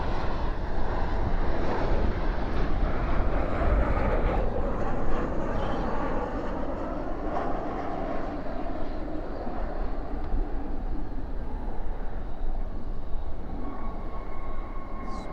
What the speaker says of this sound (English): Spoilers up, reversers out on this 737-800.